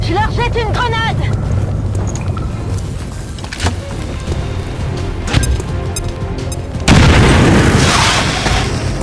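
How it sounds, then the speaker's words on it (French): A grenade blast in the XCOM 2 strategy game lands as a sudden loud boom near the end, over continuous game sound effects, music and earlier impacts. "Je leur jette une grenade."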